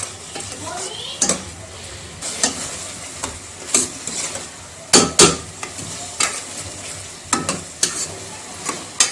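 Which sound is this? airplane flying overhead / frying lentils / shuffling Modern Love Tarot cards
frying lentils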